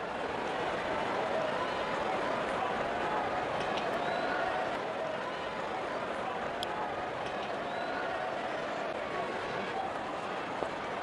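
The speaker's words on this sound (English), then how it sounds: "The crowd is enjoying every bit of this action" Steady roar of a cricket stadium crowd cheering through a Rajasthan Royals vs Smart Hyderabad match, a continuous broad wash of distant noise with a commentator talking over it.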